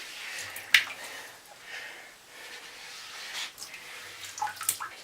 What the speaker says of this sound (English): squeegee off the excess water.